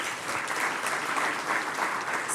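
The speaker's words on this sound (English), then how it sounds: "Can we give them a round of applause?" An audience at a research and innovation awards ceremony breaks into a steady, dense wash of applause, quite faint and distant, holding evenly throughout.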